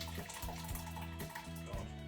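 A steady, continuous pour of boiled raspberry mixture with a full, gurgling stream that flows without pause, fairly close and fairly quiet.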